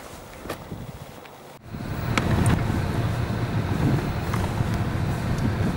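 A 2014 Range Rover Supercharged on 22-inch Pirelli tires drives off-road, starting with a quieter cabin hum before a sudden jump into steady loud rumbling and wind noise, with occasional knocks and thuds.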